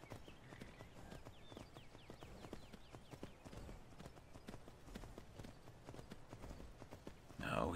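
Steady clip-clop of horse hooves walking at an even rhythm in the video game Skyrim, fairly quiet, with a brief louder burst of sound at the very end.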